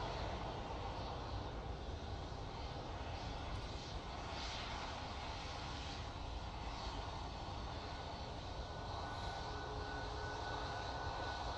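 Jet2 airliner at Manchester Airport on a gusty day, a steady broad engine roar that holds loud and constant throughout with wind noise mixed in and no talk.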